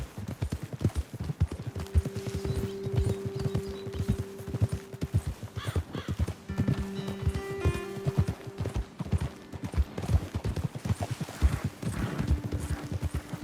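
Horses from the video game Red Dead Redemption 2 moving at a steady pace, with rapid rhythmic hoofbeats clip-clopping close and continuous, a brief whinny, and faint voices talking underneath.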